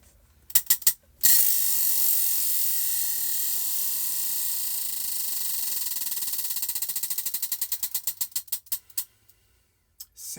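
A prize wheel spins to pick a crochet stitch, starting with a few loud clicks, then a fast, even ratcheting whir that slows into distinct, widening ticks before stopping.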